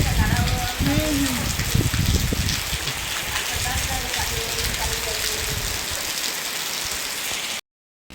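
The season's first monsoon rain pours down steadily, a dense close hiss of drops on surfaces and running water, with voices talking faintly underneath before the sound cuts off abruptly near the end.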